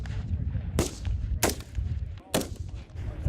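Rifle gunfire on a Marine recruit training range: three sharp, loud shots spaced about a second apart over a steady low rumble of range noise.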